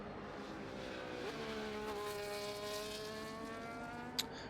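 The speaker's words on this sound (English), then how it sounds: "I've always loved the sound of that Alpine." An Alpine Formula 1 car in F1 24 on the Baku circuit, its high engine whine steadily climbing through the revs, heard alone and fairly quiet, with a brief click near the end.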